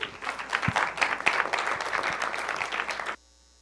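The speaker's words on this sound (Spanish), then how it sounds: "a la doctora María Antonia Chávez Gutiérrez, para quien pido un fuerte aplauso, por favor." An audience in a hall gives a speaker a burst of applause, a dense and fairly loud wash of many clapping hands lasting about three seconds before it cuts off abruptly.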